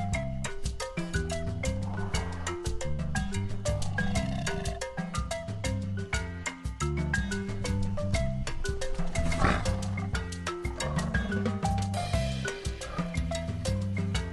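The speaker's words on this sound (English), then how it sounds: "Cheetah." Cheetah calls in a children's big cat animal alphabet, heard over loud, continuous rhythmic music that carries through the whole stretch.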